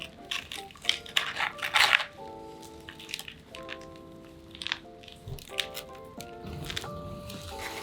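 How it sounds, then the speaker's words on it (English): Fingers pull apart the roots of a root-bound potted plant, making close crackling, tearing and gritty squishing as soil and tangled roots loosen, louder at first and then continuing in irregular bursts. "I'm gonna tease the roots a little bit because it's really root bound."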